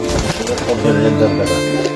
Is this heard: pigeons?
yes